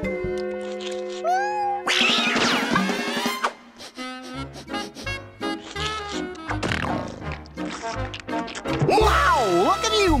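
A cartoon cat meows in a wavering, sliding, exaggerated cry, then more meow-like yowls follow, set over animated music and sound effects. There is no talking.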